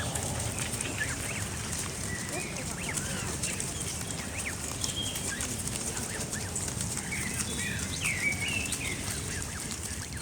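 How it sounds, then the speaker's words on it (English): Young Canada goose goslings foraging along a lakeside, soft peeping calls scattered over constant rustling and outdoor background noise. "Canada geese, born this year. Listen to the little peeping sounds they make."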